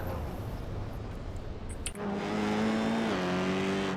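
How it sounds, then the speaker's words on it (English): Formula 4 race car engines in iRacing, with a rough roaring run that gives way after a brief crunch to a sustained, rising high-revving engine whine, loud and close with no talk. "Red Bull's going to shove him wide, and then he wrecks."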